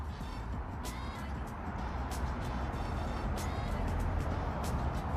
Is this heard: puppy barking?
no